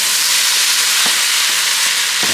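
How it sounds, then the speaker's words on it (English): Ground beef browns in a pot of potatoes and onions, giving a steady, loud sizzle with a few soft stirring scrapes. "of ground beef that we're going to go ahead and brown off in our potatoes and onions"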